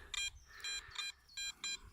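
A Nokta Anfibio metal detector beeps on a target while searching a meadow: five short, bright electronic tones in quick succession over faint outdoor noise.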